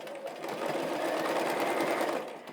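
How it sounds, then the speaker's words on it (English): Sewing machine travel stitching across the final corner of a collage quilt, a continuous fast whirring run of needle strokes that starts, holds steady for about two seconds, then stops. "This is the last corner of the quilt to stitch. I'll travel stitch over."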